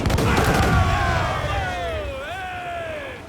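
Ship cannons boom in a naval battle in Assassin's Creed 4 Black Flag, a dense volley of loud blasts at the start fading into a rumbling tail with sustained tonal game music and shouted crew voices.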